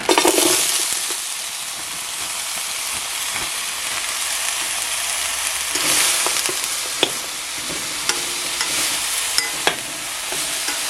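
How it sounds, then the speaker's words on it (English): Butternut squash blend vegetables hitting a very hot, slightly smoking pan, producing a loud hiss of sizzling that settles into a steady crackle, with a few sharp clicks of stirring and utensil taps, no talking. "Pan might be a little bit too hot. So I'm going to take the vegetables and pour them in."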